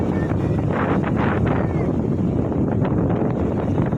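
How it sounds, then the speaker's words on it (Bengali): Strong wind blows steadily across the microphone on a riverside, a dense continuous rumbling roar with no pauses and no voices. "আর কি মারাত্মক লেভেলে হাওয়া দিচ্ছে"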